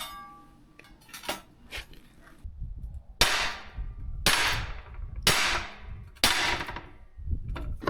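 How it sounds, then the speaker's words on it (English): A sledgehammer strikes an aluminium part on a truck camper mirror build, landing several loud, ringing metallic blows at an irregular pace, each one close and clanging, with lighter taps and knocks in between. "hit this part with a sledgehammer"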